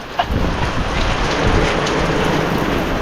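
Heavy rain pours down by the sea in a dense, steady roar with no break, close and loud throughout.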